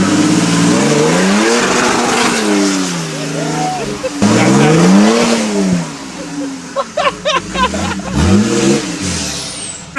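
Engine of a Toyota 4Runner with an LS swap revving hard during an off-road hill climb, rising and falling pitch sweeps ending in sharp rapid rev-limiter bounces, loud and close with people talking over it.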